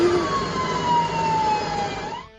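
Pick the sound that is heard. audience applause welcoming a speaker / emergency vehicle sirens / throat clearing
emergency vehicle sirens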